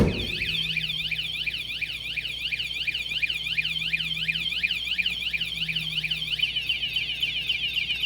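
Car alarm on a 1928 Ford Model A blaring continuously, a loud, close warbling electronic siren sweeping up and down in a rapid repeating pattern for the whole stretch.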